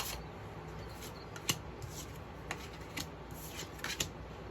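Soft, steady riffling of a tarot deck being shuffled by hand close up, with faint flicks and a few light taps of cards throughout, no talking.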